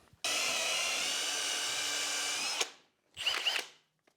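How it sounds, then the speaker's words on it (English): A power drill bores dog holes into a workbench top with a loud, steady whine lasting over two seconds. It winds down, then a second shorter burst of drilling follows. "So I'll get on now and drill all these out."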